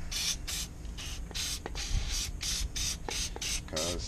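Short bursts of aerosol spray hiss one after another while coating the surfaces of a Marks 2750c/3 profile cylinder lock, close and steady, with faint clicks between bursts and no talking.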